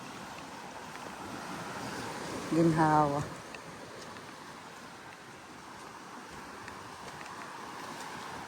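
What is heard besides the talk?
sea waves at a bayside beach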